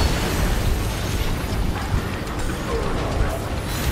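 Bombs going off in the video game Remnant 2 during a fight with burning enemies, a dense, loud rumbling roar of blasts and crackling debris filling the whole stretch without a break.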